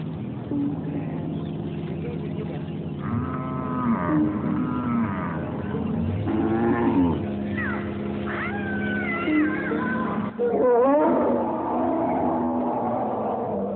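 Cattle low and moan at a Mandari cow camp in South Sudan, several long wavering calls overlapping at close range over a steady low drone.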